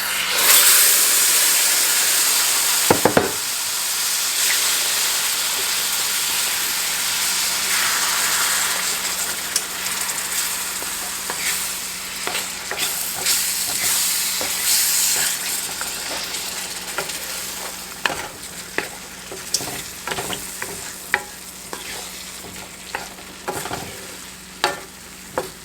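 Tomatoes tumble into a browned roux in a pan for tomato gravy, sizzling steadily with scraping stirs and clatters throughout, with no voices.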